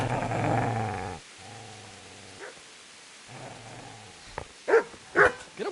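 A dog growls low and steadily at a man in the video game Kingdom Come: Deliverance, a continuous rumble at first, then quieter stretches broken by a few sharp, short snarls or yips near the end.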